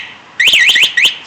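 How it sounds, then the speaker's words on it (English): A Honda SR50 scooter's alarm sounds its locate signal: loud, close electronic warbling chirps, two quick bursts with a short gap between them. "You can also hit one button that will flash it and beep it 15 times"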